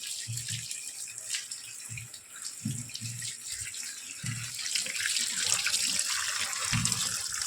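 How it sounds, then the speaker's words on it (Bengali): Mangoes washed by hand under a running kitchen tap, with a steady stream of water splashing into the sink and low knocks of fruit being rubbed and turned beneath it, close and continuous, without speech. "আমি এইভাবে ভালো করে ধুয়ে নিচ্ছি আমগুলো"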